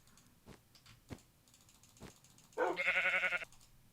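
A sheep bleats in the video game Minecraft, one short, loud, wavering bleat after a few faint clicks and taps, with no talking.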